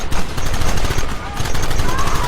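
Dense, loud gunfire rattles without a break in Red Dead Redemption, rapid shots overlapping as a continuous barrage, with shouting voices mixed underneath.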